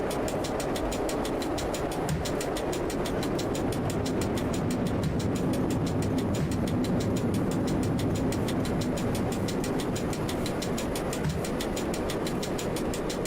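A train in the video game Train Driver 2 pulls into a station platform, giving a steady engine and rail rumble with a faint, regular rhythmic clatter that runs throughout without talk.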